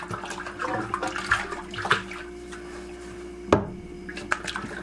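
A deer cape is pushed down into a tub of pickling solution with a pipe, giving steady sloshing, gurgling water with one sharp knock partway through.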